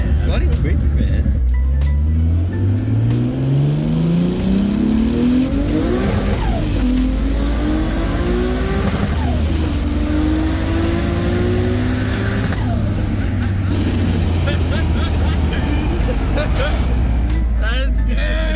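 An 800hp four-wheel-drive Nissan S15 Silvia pulls hard on the Autobahn, its engine climbing through several rising gear sweeps with shifts between them, loud and steady inside the cabin while people talk excitedly over it.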